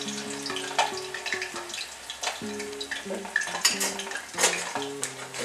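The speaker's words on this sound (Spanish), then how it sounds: "Estos tostones ahora están sofriendo." Tostones, sliced plantains, frying in hot oil give off a continuous crackling sizzle. Metal utensils clatter against the pan throughout, and a steady background melody plays underneath.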